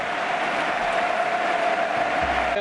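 A stadium crowd at a Copa del Rey football match cheers and applauds a player, a dense, steady roar of clapping and voices sustained throughout with no pauses.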